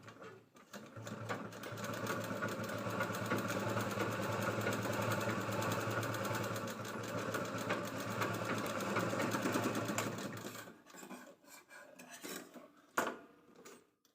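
A sewing machine runs steadily for about ten seconds, stitching blouse lining cloth along a zip, with a dense rapid whir, then stops and gives way to a few faint handling clicks and rustles.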